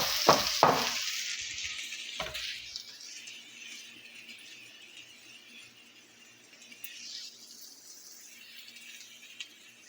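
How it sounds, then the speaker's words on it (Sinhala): Chopped onions sizzle and fry in a pan with a steady hiss, and a couple of loud stirring scrapes near the start. "දැන් ලුණු ටික දානවා."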